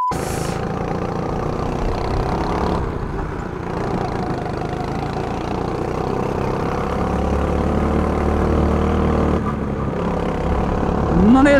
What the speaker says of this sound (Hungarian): A gokárt az inkább hangos, mint nagy.